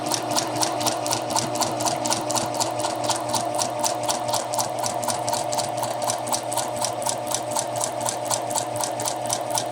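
A sewing machine stitches over a skirt dart in a fast, even rhythm of mechanical needle beats, running continuously up close with no talk.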